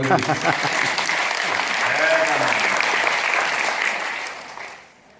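An audience at a Korean social contribution forum launch ceremony claps on request during a congratulatory speech, a full, steady burst of applause that holds and then fades out near the end.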